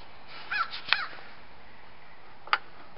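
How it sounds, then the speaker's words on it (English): A crow caws outdoors a few times, sharp and moderately distant, with two calls close together and another a couple of seconds later over quiet background. "Sounds like a crow's back."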